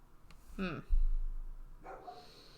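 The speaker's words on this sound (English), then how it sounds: "My dog is barking again." A dog barks twice in a room, a short sharp bark followed by a second one about a second later, heard at moderate distance with a low background hum.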